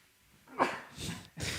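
A person sneezes once, a sharp burst followed by breathy, hissing exhalation noise in a quiet indoor room; the sneeze is near and moderately loud.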